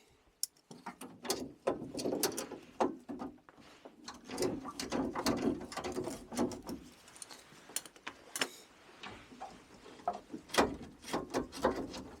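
Grips clamp and turn a tight condensate trap on a Worcester Greenstar boiler, giving close metallic clicks, scrapes and ratcheting creaks in irregular bursts, with no talking.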